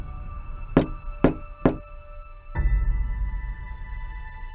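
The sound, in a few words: knock on a door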